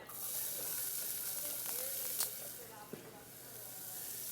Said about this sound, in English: So now I've got my oil hot in the pan. So I'm going to start with a little bit of diced onion.